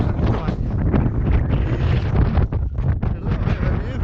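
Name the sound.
strong wind on mountain ridge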